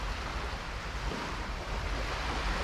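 Gentle sea at St Brides, near the lighthouse, on an overcast day with a very light ripple: a steady, soft wash of surf and wind noise, continuous and even, with no voices.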